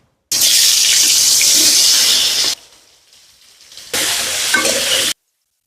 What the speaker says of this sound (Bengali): এখন মাছ ভাজির তেলের মধ্যে আমি আলু ফুলকপি ভাজিলিম